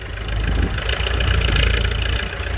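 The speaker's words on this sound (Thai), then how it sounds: "เดี๋ยวมาดูเจ้า รถไถฟอร์ดคันนี้หน่อยครับ" A Ford 5610 farm tractor's diesel engine idles loudly and close by, a steady low rumble with a slight uneven pulse, running alone without talk.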